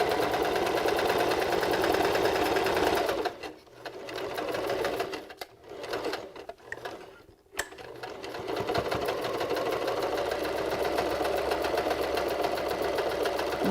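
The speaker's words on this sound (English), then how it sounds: "So this is a straight stitch, 3/8 inch seam" A sewing machine running a straight stitch along a 3/8 inch seam on a beanie, its rapid steady needle chatter carrying on close and loud, briefly slowing and pausing midway before resuming at full speed, with no talk.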